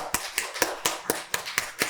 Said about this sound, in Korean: 지금 이 자리에 살아계신 하나님께 영광의 박수를 돌리겠습니다